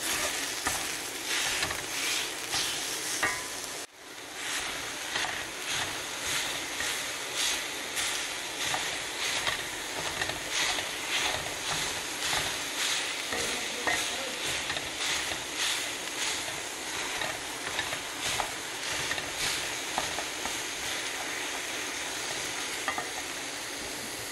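Chicken sausage meat browning in a pan for spaghetti Bolognese, with a steady dense sizzle and frequent stirring scrapes running throughout, close and fairly loud, briefly interrupted by a knock near the start.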